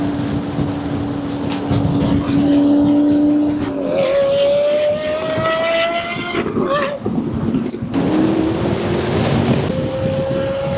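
Supercars such as Lamborghinis and Ferraris drive past at a supercar rally, engines holding rising and falling tones with a steady loud roar and gear shifts, close by and continuous without talk.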